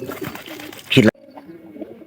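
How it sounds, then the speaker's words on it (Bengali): Desi and Giribaz pigeons coo in a soft, low, steady run that follows a brief loud rustling burst near the start. "আমার পায়রার মান কিন্তু অনেকটা ভালো আছে কারণ ডাকের দিক দিয়ে কিন্তু সেরা আছে"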